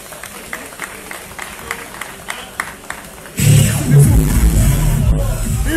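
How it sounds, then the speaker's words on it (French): Applause for a cyclist at a stage of a youth bike race in Cameroon: quiet murmur and scattered sounds at first, then a loud burst of clapping and crowd noise that swells and holds to the end. "On l'applaudit bien fort"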